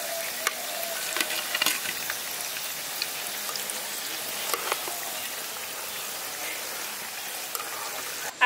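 Bread and carrot pakoras, village style, frying in hot oil, giving a steady fine sizzle and crackle with scattered pops, close and fairly quiet, with no voices.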